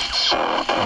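Synthesized laser effect for a video game, two bright buzzing blasts with a swept, noisy tone, loud and close with no talking.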